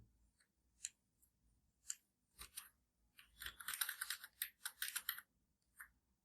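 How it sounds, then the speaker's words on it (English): A computer keyboard shortcut being pressed, Ctrl X, heard as a scatter of faint, sharp plastic key clicks and taps, some clustered in quick bursts, with no talking. "I'm going to press Ctrl X for now"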